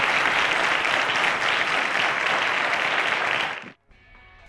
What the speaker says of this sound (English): round of applause to Nankling and Daniel